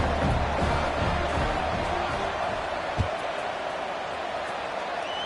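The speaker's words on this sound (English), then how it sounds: "this crowd now ready to get behind them" A stadium crowd roars steadily at a football kickoff, a broad, loud, continuous wash of cheering with a brief thump near the middle.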